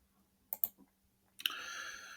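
Sharp computer mouse clicks while editing in Clipchamp, two quick close clicks, a softer tick, then another click followed by a bright whirring tone.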